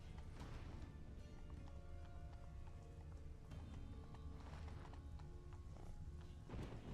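Horse hooves galloping in The Witcher 3, a steady rhythmic clatter of hoofbeats under a dense game soundscape, fairly faint.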